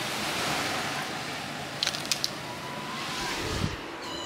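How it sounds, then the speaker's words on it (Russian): Sea waves wash steadily onto the shore, a continuous broad rush with soft swells and a few faint clicks near the middle. "Море. Это море."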